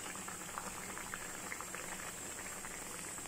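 A bottle gourd and prawn curry simmers in a covered pot, giving a steady close bubbling and soft patter with no talk over it.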